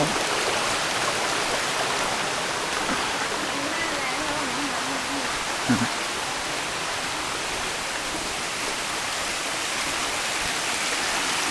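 Water flowing along a stream channel beside a hiking trail on Khao Khitchakut mountain, a constant close rushing hiss with no breaks, with a brief voice murmur partway through.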